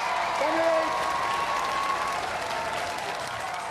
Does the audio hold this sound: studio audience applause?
yes